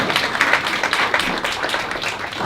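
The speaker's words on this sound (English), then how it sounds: "So huge round of applause to Susan" Applause for a keynote speaker at a college career event, a modest crowd clapping with clearly separate, uneven hand claps at moderate loudness.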